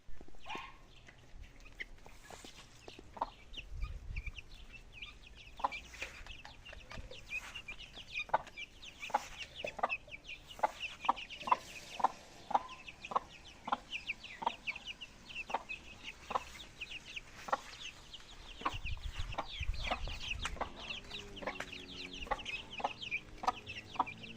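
Farm poultry chicks and ducklings peep and cheep in a steady stream of short, quick calls, fairly close and soft, with brief handling noises and a low rustle in the background.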